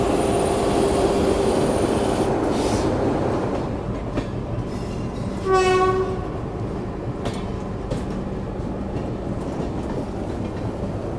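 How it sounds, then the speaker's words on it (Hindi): The KSR Bengaluru Nanded Express rumbles past at close range, a loud, steady clatter of wheels and wagons, with a brief horn blast near the middle before the rolling noise continues. "और ये है आपकी मेरे ख्याल से हाँ KSR बेंगलुरु नांदेड़ एक्सप्रेस।"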